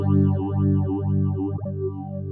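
A distorted electric guitar chord rings through a BOSS PH-3 phaser pedal set to a 10-stage phase, with a sweeping, whooshing phase swirl cycling several times over the sustained sound, loud and close.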